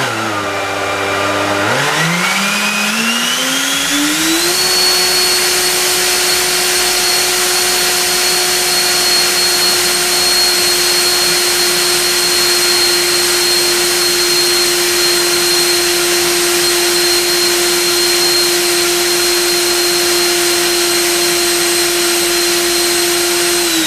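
An electric ducted fan driven by a leaf blower motor in an RC F-16 spools up over a few seconds. It settles into a loud, steady, high-pitched whine that holds for the rest of the clip, set at 75% throttle and powered by two 5000 mAh packs.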